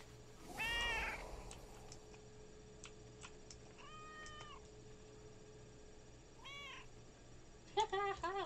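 A kitty cat pet in World of Warcraft meows several times at spaced intervals, faint against a quiet game background, with a louder burst of sound at the start.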